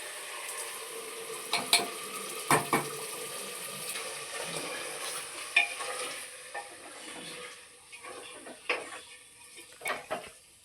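Tomato and leaves frying in oil, stirred with a utensil: a steady low sizzle with scattered clinks and scrapes against the pan, close and moderately loud.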